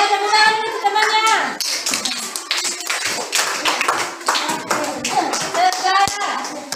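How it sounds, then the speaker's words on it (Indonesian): Schoolchildren in a classroom clap for a classmate, a burst of quick, uneven hand claps from a group close by, mixed with children's voices and an adult speaking. "tepuk tangan dulu temannya"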